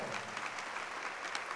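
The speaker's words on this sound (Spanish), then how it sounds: "Un fuerte aplauso al Señor por la buena labor que hizo" Church congregation giving a steady burst of applause, dense clapping throughout at moderate level with no speech over it.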